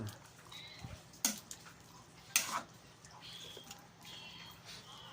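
Quiet scraping and clinking of a utensil stirring coconut milk stew with jackfruit in a pot, with two brighter metallic knocks and soft bubbling underneath.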